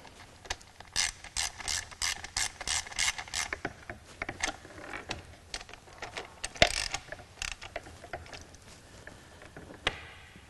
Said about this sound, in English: Tighten those all up nice and snug.